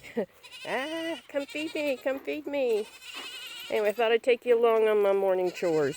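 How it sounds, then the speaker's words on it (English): Baby goats on a farm bleat repeatedly in wavering, high cries during morning chores, close and loud, mixed with a person talking over them. "next is the baby goats. I don't know if you can hear them or not, but they're crying."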